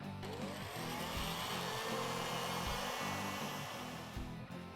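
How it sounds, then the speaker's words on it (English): A heat gun roars steadily while shrinking shrink wrap on the lower radiator hose of a Ford Roadster, a close, continuous blowing hiss with small wavers that lasts the whole stretch. "shrinking the last shrink wrap on this bottom hose so Jack can come in and get his Roadster"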